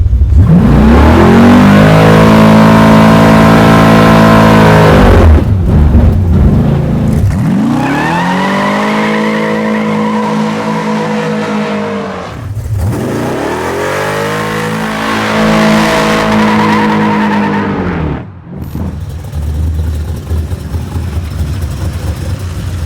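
A 700hp big block Camaro engine revs hard in repeated climbs, each rising to a loud roaring peak then dropping back to a rough idle, very close and raw with no talking.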